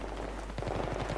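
Steady heavy rain hisses throughout a Battlefield 3 online match, with a dense broadband wash and a faster run of sharp gunfire-like cracks in the second half.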